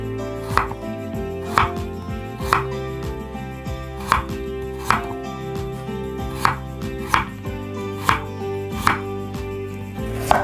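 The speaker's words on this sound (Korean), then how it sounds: "무도 배추와 비슷한 크기로 썰어주시는데요. 먼저 편으로 썰어주도록 할게요." Korean radish cut into thin flat slices with a kitchen knife on a cutting board, each stroke landing as a crisp, sharp knock at a steady pace of about one per second, close up over faint background music.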